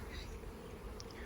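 Honey bees buzz around small nucleus hives outdoors, giving a soft, faint, continuous hum with a few brief nearby passes and no talking.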